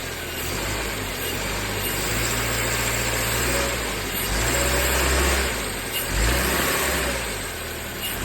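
A 2006 Subaru engine, checked for worn motor mounts, revs up and settles in a few slow swells, a close, loud, deep rumble with no talking.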